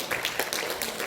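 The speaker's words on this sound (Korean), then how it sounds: "박수 한번 해드립시다." A church congregation applauding during a Korean sermon, a short, dense burst of many hands clapping together, fairly close and loud, with no voices over it.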